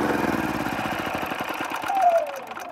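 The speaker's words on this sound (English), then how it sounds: "now let's cut the engine" A generator engine is switched off close by: its rapid chugging pulses slow and thin out as it winds down, ending in near quiet.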